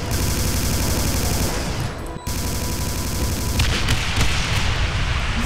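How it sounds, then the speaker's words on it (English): Gunfire in a video game, dense and continuous, with overlapping shots and blasts at a loud, steady level and a momentary dropout midway. "Why wasn't I shooting the gun?"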